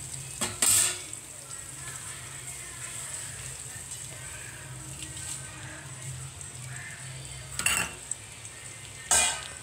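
Gongura leaves and green chillies fry in a pan for traditional gongura pickle, giving a steady, soft sizzle throughout, broken by a few sharp clanks of a utensil against the pan.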